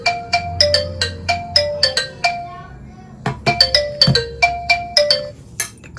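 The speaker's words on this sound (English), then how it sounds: "Next, let's have the call. It's now calling." An incoming-call ringtone plays from a Huafit A1000 smartwatch as a bright, repeating pattern of chiming tones that pauses briefly and then starts again, loud and close.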